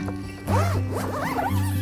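A zipper on a tree tent is pulled in several quick strokes, close and crisp, a short burst of ratcheting rasps over a low background hum.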